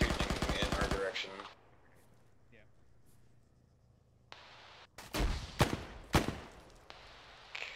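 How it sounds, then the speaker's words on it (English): Gunfire from Bravo team in the Arma video game, a loud rapid automatic burst at the start, a quiet stretch, then several sharp shots and short bursts, with voices talking over the radio. "Bravo shooting in our direction."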